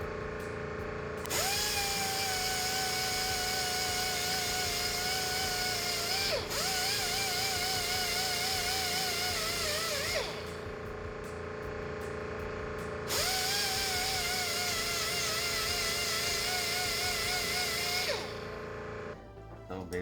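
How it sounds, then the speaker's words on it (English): Grinder fitted with a fine disc deburring homemade metal spoiler tilt risers for a GE8 Honda Fit, its loud steady whine running in long passes with brief dips as it loads and unloads against the metal. "So basically I'm just using a fine disc on this now to clean it all up and get rid of all the burrs and stuff"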